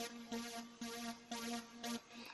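A soloed D tune drum sound from an amapiano sgija beat in FL Studio Mobile plays alone as quiet, tonal pulses in a steady repeating pattern, each hit sustaining briefly before the next.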